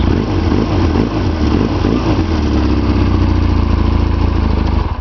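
A 2011 Roketa JL250P motorcycle engine runs loud and close, revving up with a few throttle blips before settling into a steady, deeper rumble, then cutting off.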